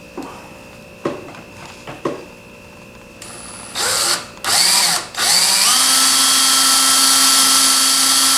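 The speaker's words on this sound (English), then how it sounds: "let me just drill them out" A power drill whirs in short bursts after a few clicks and taps, then runs steadily at high speed, loud and close, drilling holes in an AK-47 rifle receiver.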